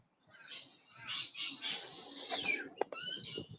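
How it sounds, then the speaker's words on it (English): Birds in the Bendigo botanical gardens in Victoria, Australia, near ducks, give a run of bright chirps and tweets, with one rising whistle and a few sharp calls, fairly close and with no talk. "There's plenty of birds around here."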